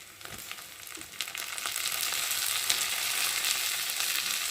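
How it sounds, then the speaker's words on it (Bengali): Onion, garlic, ginger, green chilli and tomato fry in oil in a wok, giving a steady bright sizzle that swells slightly after the first second and stays busy throughout, with no talking. "কড়াতে তেল দিয়েছি, আর পেঁয়াজ দিয়েছি, আর রসুন দিয়েছি, আদা দিয়েছি, ভাজা ভাজা করে নিচ্ছি"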